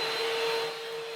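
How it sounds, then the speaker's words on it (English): A vacuum cleaner runs over a vintage Electro-Harmonix analog micro synthesizer, giving a steady, close, high whining rush that holds level on its own for about a second. "Let's vacuum this thing. You gotta vacuum this thing."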